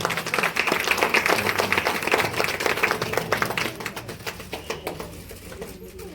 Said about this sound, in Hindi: तालियों की कमी नहीं होनी चाहिए।